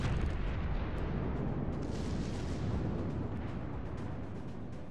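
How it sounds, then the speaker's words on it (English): Warship guns in World of Warships: Legends firing on the battleship Bismarck: a dense, continuous rumbling barrage of heavy booms blending into a sustained roar. "I'm gonna shoot the Bismarck."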